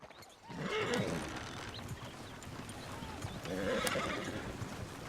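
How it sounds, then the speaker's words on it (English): Horses in the Red Dead Redemption 2 video game whinny in two loud bursts while hooves clip-clop underneath, with voices mixed in. "Oh, shit, the horses! Damn horses!"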